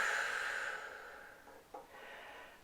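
Slow, soft exhalation of breath during a calm mindfulness exercise for violin players, close and quiet, fading out with a small catch near the end.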